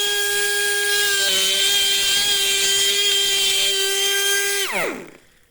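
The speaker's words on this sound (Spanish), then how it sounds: "Veis que estoy utilizando una fresa diamantal fina que acaba muy en punta para poder llegar bien a los rincones." A fine-pointed diamond burr carves a granite relief with a steady, loud, high whine. The tool runs constantly and then spins down and stops near the end.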